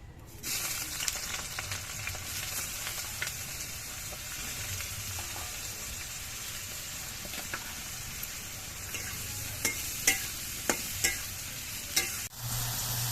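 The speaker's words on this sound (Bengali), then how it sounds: "তেলটা গরম হয়ে যাওয়ার পর আমি বেগুনগুলোকে ভেজে নিচ্ছি" Brinjal pieces frying in hot mustard oil in a heated kadai, a steady close sizzle with stirring scrapes and a few sharp utensil knocks near the end.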